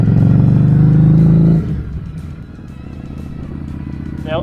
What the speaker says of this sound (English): pull in your clutch while rolling off the throttle, click your gear selector down, release your clutch while rolling on the throttle